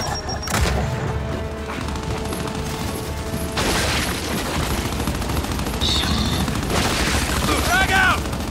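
Grenade launcher fire and frag grenade explosions in the video game Gears 5, heard as a steady rumble of combat with repeated heavy thumps and mechanical clatter, and voices faintly in the mix.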